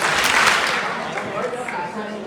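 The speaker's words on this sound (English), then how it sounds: "If you can hear me, clap twice" An audience in a church hall at a community kickoff meeting bursts into loud clapping that fades over a couple of seconds, a dense burst of applause rather than two distinct claps.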